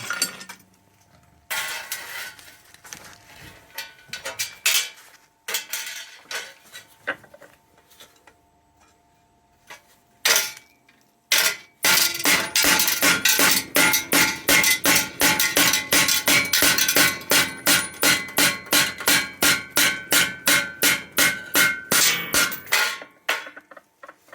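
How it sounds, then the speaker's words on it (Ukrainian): A knife chops through an 8 mm steel rod with hard metallic strikes. Scattered blows come first, then a fast, steady run of loud, close chops, each ringing briefly. "Прут також перерубав, прут 8 мм."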